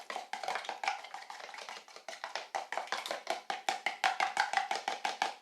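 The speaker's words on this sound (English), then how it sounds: "Go ahead and scramble it with a spoon." A spoon scrambles an egg inside a mug, making a quick, steady run of bright clinks and taps against the mug wall, close and fairly loud, with no voices.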